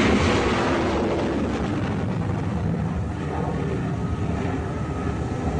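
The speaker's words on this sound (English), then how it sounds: "There goes an F-18 Hornet off the deck of the Nimitz." F-18 Hornet jet launching off the deck of the aircraft carrier Nimitz, a loud steady broadband roar that fills the whole clip with no talk.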